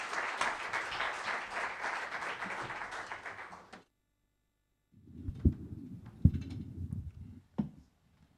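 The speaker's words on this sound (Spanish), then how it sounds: "les pido un fuerte aplauso para recibir a Fermín Fernández Belloso" Loud audience applause at a poetry book presentation fills the first four seconds, then stops abruptly; after a pause, softer scattered claps and taps follow with a few sharp peaks.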